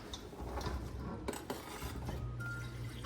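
Chopped food tumbling into a metal kitchen strainer, a soft close clatter and rattle of pieces against the mesh, brief and fairly quiet with no talk.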